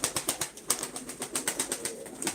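Takka perçem pigeons at a pigeon auction flapping their wings in a rapid, steady fluttering rhythm, close and fairly loud, with no talk over it.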